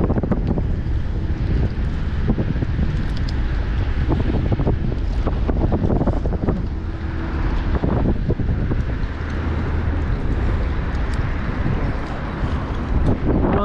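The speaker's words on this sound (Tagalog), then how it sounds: "Medyo malakas na po yung hangin." Strong wind at the sea roars and buffets the microphone in a steady, loud rush for the whole stretch, with surf-like swells underneath and no talking.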